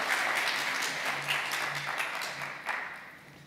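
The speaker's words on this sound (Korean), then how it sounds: "우리 다시 한번 감사와 영광의 박수 올려드리겠습니다." Congregation applauding during a Sunday church service at a church marking its 50th anniversary, moderate clapping that gradually thins and fades with a few scattered late claps.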